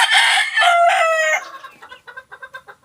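A fighting rooster gives one loud, close crow, then a run of short, rhythmic clucks that fade quickly.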